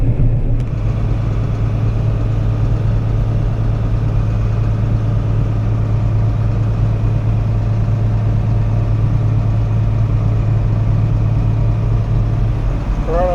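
Wheat-harvest tractor engine running near idle, a loud steady low drone with constant pitch and no revving, continuous throughout.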